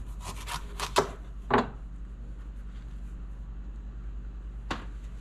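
A knife chops through food on a cutting board before roasting, with a few quick crisp cuts, two firmer thuds, and a final isolated chop against a steady low hum.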